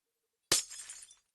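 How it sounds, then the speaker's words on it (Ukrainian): A glass window shatters in the video game Minecraft: a sharp crash with a brief tinkling tail, followed moments later by the start of a second break, loud against near silence. "Одно вікно розбив."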